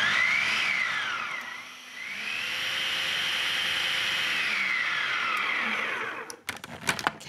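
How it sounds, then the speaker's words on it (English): A food processor mixes and binds lentil burger ingredients with fresh eggs, giving a loud, continuous whirring motor drone with shifting pitch, then stopping near the end with a few clattering knocks. "now I'll let the food processor mix and bind all of my ingredients together"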